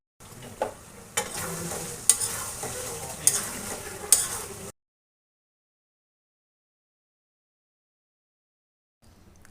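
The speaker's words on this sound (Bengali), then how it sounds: "আবারও ভালো করে কিছুক্ষণ নেড়ে চেড়ে কষিয়ে নেব।" Chicken rezala with nut paste is stirred and fried in a pan: close sizzling with repeated spoon scrapes and metallic taps for several seconds, then abrupt silence until a faint sound returns at the end.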